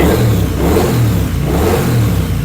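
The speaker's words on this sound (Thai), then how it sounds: "มาฟังเสียงเครื่องนุ่ม ๆกันก่อนเลย" A Triumph Speed Twin 900 motorcycle engine revs in steady mid-pitched surges, loud and close, with throaty low rumble throughout and no voices.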